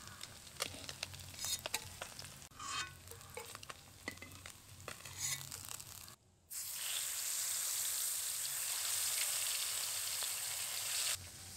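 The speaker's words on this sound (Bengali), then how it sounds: "মাছগুলোকে একটু লাল লাল করে ভেজে নিয়েছি, এবার তুলে নেব।" Koi fish frying in oil for a coconut-milk fish curry, with stirring and scraping at first, then a brief pause before a steady, loud broadband sizzle that runs on continuously until near the end.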